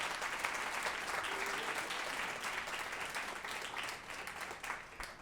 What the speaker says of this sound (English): So let's give a round of applause for Tina and the family.